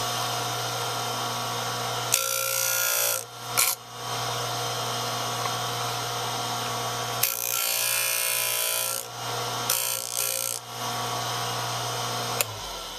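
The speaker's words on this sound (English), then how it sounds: "I will press that against there so the end is quite square, and press it into the disc." A sanding disc squares the end of a wooden beam for a model trestle, with a steady motor hum broken by three loud gritty bursts of the wood being pressed against the spinning disc.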